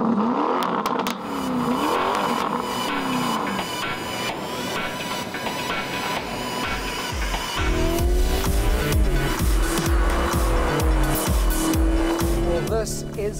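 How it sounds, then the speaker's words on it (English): Lamborghini Urus with a compact, all-aluminium turbocharged V8 engine revs and accelerates, a loud rising roar with possible tire squeal, mixed with a musical backing that grows stronger in the second half. "This is a first for Lamborghini, a turbocharged V8."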